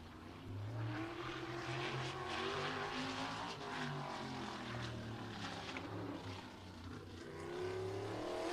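Race car on a warm-up lap at Showtime Speedway, a short track in Pinellas Park, Florida, its engine droning steadily at a moderate distance, rising and falling as it circles.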